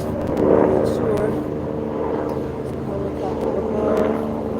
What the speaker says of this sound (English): helicopter above